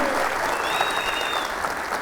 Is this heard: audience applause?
yes